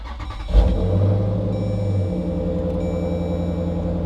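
Jeep Grand Cherokee SRT V8 fitted with a catback exhaust cranks and fires up with a loud burst, then settles into a deep, steady, rumbling idle close by.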